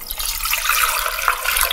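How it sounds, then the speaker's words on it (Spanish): Water rushes steadily into a pot over roughly 900 grams of chicken carcasses, a loud, close, continuous splashing hiss with no talking. "Las cubrimos con agua."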